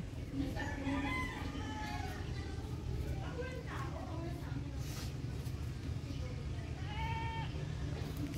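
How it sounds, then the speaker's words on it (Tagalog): A goat bleats a few times near the sea in Calatagan, Batangas, short wavering cries spread out over a steady outdoor background hum. "At may kambing."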